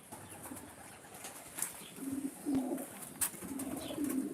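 Racing pigeons in the loft give soft, low coos, faint and somewhat distant, with light rustles and a few sharp ticks in a quiet room.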